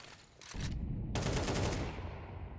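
Pistol fire from P250s and Glocks in a Counter-Strike ESL Challenger League match, several sharp shots cracking in quick succession over a steady, loud game ambience.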